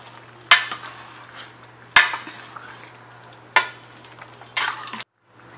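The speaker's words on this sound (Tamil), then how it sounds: "இதை வந்து லைட்டாக கிண்டி விட்டுக்கலாம்." Egg curry gravy being stirred in a pan: four distinct scraping strokes of a utensil against the pan, close and fairly loud, over a low simmering bubble, with no talking.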